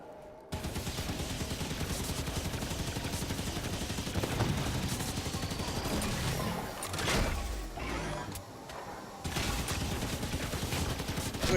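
Dense, sustained automatic gunfire in Halo 5: Guardians, rapid bursts running almost continuously for most of the stretch with brief lulls, loud and close, with heavy explosive thumps mixed in.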